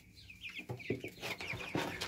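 Chickens in a poultry house give a run of close, moderately loud clucks and short squawks in an uneven rhythm, with no voices over them.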